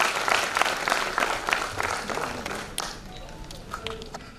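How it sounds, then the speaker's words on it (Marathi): Audience applause welcoming honourees at a Marathi journalists' association event, rhythmic, fairly loud clapping that gradually thins into scattered claps. "त्यांच्यासाठी पहिल्यांदा आपण एकदा जोरदार टाळ्या वाजवून त्यांचं स्वागत करूया"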